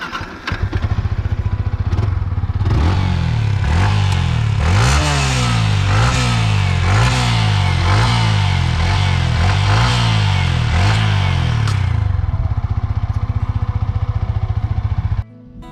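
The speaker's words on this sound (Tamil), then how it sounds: "இப்போது வண்டியோட எக்ஸாஸ்ட் சவுண்டு பார்க்க போகிறோம்." A Yamaha MT-15 motorcycle exhaust revs loudly and up close, blipping the throttle about eight times in a regular rhythm over a rumbling idle before cutting off.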